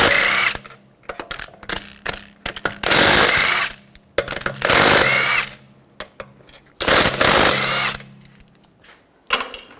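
An impact tool with a 17mm socket spins out the lug bolts on the rear wheel of a 2009–2010 BMW 535i xDrive. Several loud, close bursts of whirring rattle are separated by short pauses and clicks.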